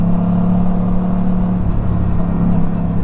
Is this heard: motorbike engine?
yes